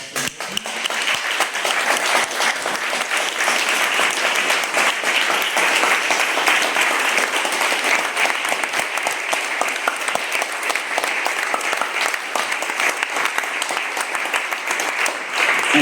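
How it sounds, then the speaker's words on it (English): Sustained audience applause in a conference hall after a lecture, a continuous, even roar of many hands clapping for the whole stretch, fairly loud and without speech. "Please give a warm round of applause."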